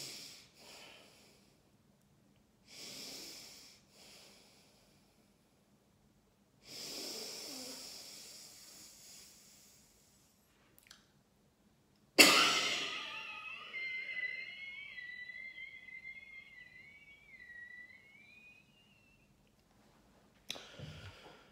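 A person blows forcefully into a lung function test device in one sharp burst of exhalation. A hissing rush follows and tails off over several seconds, after quieter breaths and shuffling, and ends on a final short puff.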